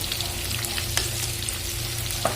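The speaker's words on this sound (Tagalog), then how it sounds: "Ngayon, nakasalang na ang fried chicken ni Kusa." Fried chicken cooking in a pan gives an even, close hiss of hot oil, with small crackles and one or two faint taps over the steady sizzle.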